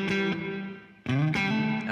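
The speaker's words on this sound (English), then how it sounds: "a really, really short delay tail, or reverb tail" Distorted guitar notes ring out and cut off quickly, each followed by a very short, clipped reverb tail from an EarthQuaker Devices Avalanche Run delay and reverb pedal.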